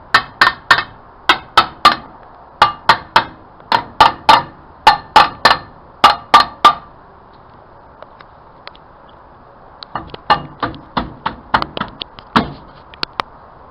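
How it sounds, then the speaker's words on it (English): Metal tool gently tapping a brake part on a Chevy El Camino that catches on the wheel studs: rapid bursts of sharp, close metallic knocks in quick groups, a short pause, then another run of lighter taps. "Let me just gently tap it because see it's catching on the studs."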